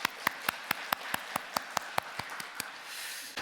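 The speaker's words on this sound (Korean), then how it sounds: "우리 하나님께 감사의 마음을 담아서 하나님께 박수로 영광을 올려드리겠습니다." A church congregation at a Thanksgiving worship service claps in a steady, evenly spaced rhythm, roughly fifteen crisp claps at moderate volume with no talking, fading slightly toward the end.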